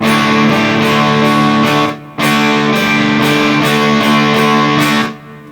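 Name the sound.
electric guitar with overdrive pedal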